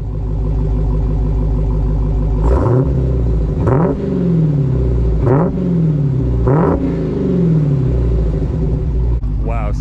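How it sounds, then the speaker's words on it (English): A 717-horsepower Dodge Challenger Hellcat with stock exhaust revs hard four times over a deep idle rumble, each sharp, loud blip dropping quickly back, with a faint supercharger whine riding the revs. "You can even hear a little bit of supercharger whine when you rev it."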